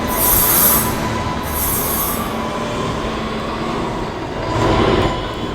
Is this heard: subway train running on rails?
yes